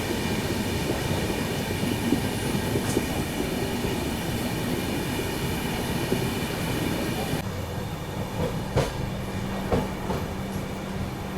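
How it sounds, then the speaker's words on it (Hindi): Paschim Express running through Santacruz local station in Mumbai without stopping, with steady rail rumble and clickety-clack from inside the carriage, a shift in tone partway through and faint voices in the background. "अभी अपनी ट्रेन स्किप कर रही है सेंटा क्रूज"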